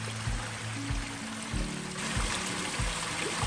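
An underground spring tumbles past in Peneda-Gerês National Park, Portugal, a steady rushing flow of water with a low repeated knocking underneath.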